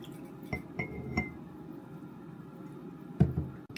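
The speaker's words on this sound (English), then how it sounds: "Then I go ahead and pour my green tea mix into that." Green tea mix is poured into a glass holding ice and milk, giving a few faint clinks of ice against glass over a soft liquid background, followed by a louder clink near the end.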